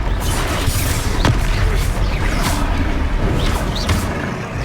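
A Confringo spell explosion in the video game Hogwarts Legacy, heard as a loud, dense, rumbling blast with crackling bursts that continues for the full length.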